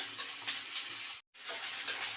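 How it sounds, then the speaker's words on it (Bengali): Vegetables and eggplant sizzle steadily in hot oil in a pan while being stirred, a continuous close frying hiss that cuts out for a moment near the end and then resumes. "এবার বেগুন দিয়েও ভালো করে আবার ভেজে নেব"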